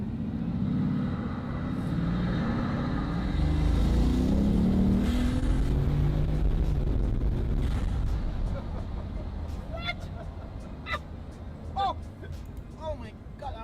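A video-game car engine on original 2014 tires revs and accelerates steadily, loud and continuous throughout, with someone talking over it and sharp clicks near the end.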